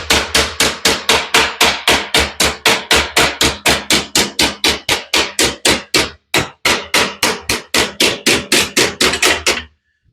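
Rapid, steady hammer blows ring out on sheet metal of a 1941 Ford two-ton truck cab in a home garage, about thirty evenly spaced strikes close up with one brief pause, no talking.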